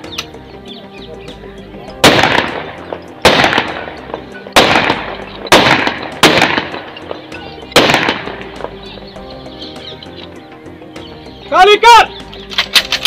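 A gunfire salute fired in a volley: six sharp, loud reports at roughly even intervals, each echoing briefly outdoors, followed near the end by a rapid burst of several quicker cracks.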